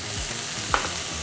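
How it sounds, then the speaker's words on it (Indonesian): Boiled, small-diced potatoes tipped into a pan of frying caramelized mushrooms, giving a steady soft sizzle with a brief brighter clatter as they land, close and alone without talk. "Nah, kita bisa masukkan kentang."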